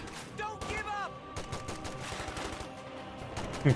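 Rapid bursts of gunfire and machine-gun fire in the World War II strategy game Company of Heroes 2, dense overlapping shots under faint talk.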